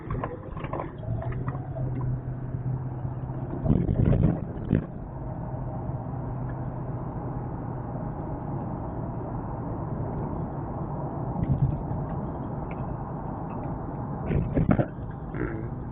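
A 2010 Ford Crown Victoria on a test drive after a transmission service, its steady low engine and road drone continuous in the cabin, with a few brief knocks and rattles.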